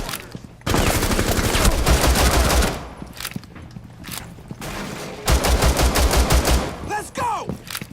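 Rapid bursts of pistol gunfire from the video game Rainbow Six Siege crack out in two dense volleys, loud and close, with brief gaps and shell-like clinks between.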